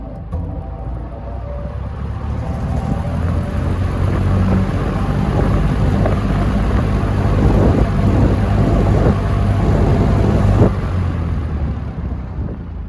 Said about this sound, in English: Look at those fans going.